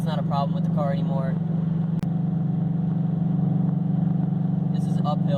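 A Subaru BRZ fitted with a Borla unequal-length header drones steadily while climbing uphill in sixth gear, a constant low exhaust tone under a voice.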